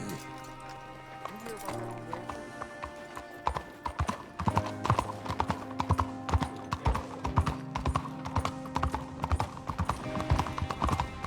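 Steady clip-clop of horse hooves trotting in a quick, even rhythm in the video game Red Dead Redemption 2, with a brief whinny and some speech mixed in over a faint musical backdrop.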